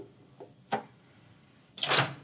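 A hotel door deadbolt and lock latch are worked on a door, giving a few quick mechanical clicks and then a louder metallic clack, close up.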